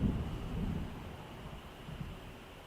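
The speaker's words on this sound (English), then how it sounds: "The storm is almost here." Low rumbling thunder rolls under steady rain and wind as a storm closes in during the game Alan Wake Remastered, a continuous dark wash with a slightly louder swell at the start.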